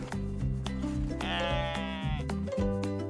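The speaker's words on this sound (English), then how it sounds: "It's a goat." A goat bleats over a busy children's song on a farm, the long wavering call rising clearly above the music for about a second in the middle of the clip.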